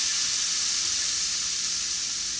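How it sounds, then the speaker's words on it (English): Food sizzles in a smoking-hot pan, a steady close hiss of bright crackling spatter that holds evenly throughout with no voices over it. "You hear that sizzle, chat?"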